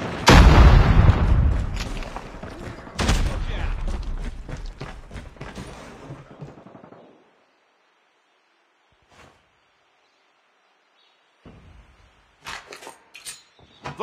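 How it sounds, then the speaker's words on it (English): In Call of Duty Mobile, a flashbang grenade goes off with a loud close blast, a second boom follows, and the sound decays into ringing silence before faint clicks and game sounds return near the end. "Flashbang!"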